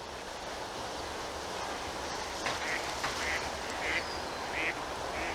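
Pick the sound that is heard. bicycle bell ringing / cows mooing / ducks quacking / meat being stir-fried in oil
ducks quacking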